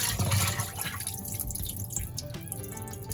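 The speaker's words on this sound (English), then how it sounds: "And then you just drain all the water" Water drains steadily from rinsed oxtail meat in a home kitchen sink, a continuous close splashing trickle with dripping that runs for the whole stretch without a break.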